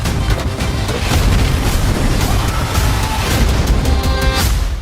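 A grenade explodes in a Hollywood action movie: a loud, close, sustained blast with rumbling, crackling debris lasting several seconds.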